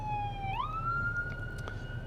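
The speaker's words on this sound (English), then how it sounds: "there's an ambulance coming, so obviously something is going on back there" An ambulance siren wails on a street in Norwich, Connecticut, its steady tone sliding upward into a higher sustained pitch, heard over the low rumble of a car interior while driving.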